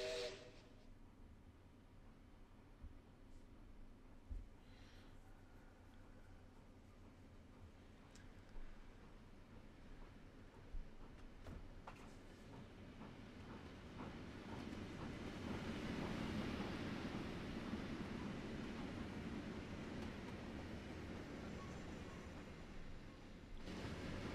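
A steam locomotive in Trainz Simulator 3 draws closer and passes, its hiss and chuffing rising from a faint distance to a louder, dense rush with a rumbling undertone.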